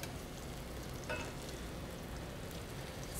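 Zucchini and goat cheese fritters fry in a hot pan, giving a steady, dense sizzle that runs without a break, with one brief brighter crackle partway through and no talking.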